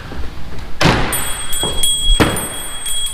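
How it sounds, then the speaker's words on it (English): An old wooden door in an antique shop swings shut with a loud thud, followed by a couple of lighter knocks and rattles as it settles, recorded up close with a faint steady whine in the background. "Let the door close."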